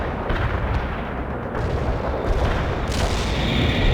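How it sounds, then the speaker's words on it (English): An artillery barrage rolls on in the World in Conflict video game, a continuous deep rumble of distant booming impacts that overlap into a dense, steady roar for the whole stretch. "Our barrage keeps the target."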